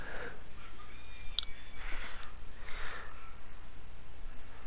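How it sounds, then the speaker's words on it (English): Paper pages crunch and crinkle in Resident Evil Village as a firearms manual is leafed through, several soft crackling bursts over a steady low game ambience with no talk. "I don't like the way those pages crunch."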